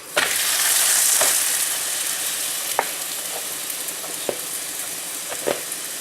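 A paratha frying in ghee on a pan sizzles steadily and close up, with a few sharp clicks and taps from handling along the way and no talking.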